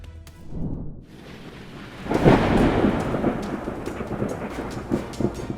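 A loud crack of thunder from a lightning storm in the Kimberley rolls into a long rumble, with heavy rain pattering steadily underneath.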